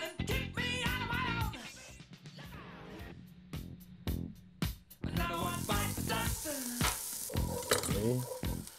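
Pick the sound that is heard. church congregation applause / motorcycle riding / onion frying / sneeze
onion frying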